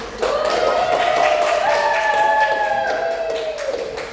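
Classroom students clap for a group after a microteaching presentation, a brisk, close burst of hand claps running throughout, mixed with a sustained tonal whistle or squeal rising and falling over the top.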